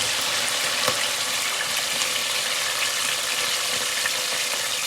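Fennel seeds crackling in a hot pan as grated coconut goes in, a dense even sizzle up close with a few sharp pops and stirring clicks.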